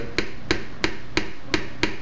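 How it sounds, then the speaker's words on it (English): Chunky peanut butter being jammed down into a blender, six sharp evenly spaced knocks about a third of a second apart, close and clear against a quiet background. "You're going to want to hammer it in there pretty good."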